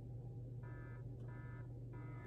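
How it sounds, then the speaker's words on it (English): Three short, evenly spaced electronic alarm tones from a video editing app's sound effect library, each a bright buzzing beep, play quietly over a steady low hum. "Okay, alarm."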